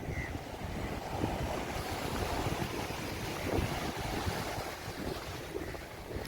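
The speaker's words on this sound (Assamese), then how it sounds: "আহা কি ধুনীয়া বতাহ" Wind sweeps steadily across the seashore at Kochi, Kerala, with waves breaking, a continuous roaring rush that gusts a little louder at moments and buffets the microphone, with no voices.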